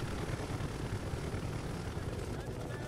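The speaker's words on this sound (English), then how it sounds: "we're going in a chopper?" A helicopter in the Call of Duty Cold War campaign, its steady rotor and engine drone filling the scene as a constant, loud wash of noise.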